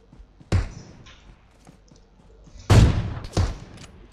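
Gunfire in the mobile game PUBG Mobile: three sharp, loud shots spaced apart, the last two close together, over faint background game noise.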